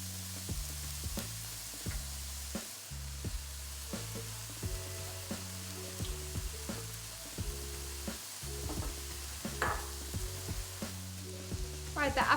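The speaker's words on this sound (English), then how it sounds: "we're going to add our chopped garlic. And the apple is next." Chopped garlic and apple sizzling in a pan for a cauliflower, chickpea and chard curry, a steady close frying hiss with occasional stirring scrapes throughout.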